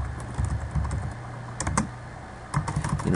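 Quick, close typing on a computer keyboard, small bursts of key clicks with short pauses between words, fairly clear against a quiet room.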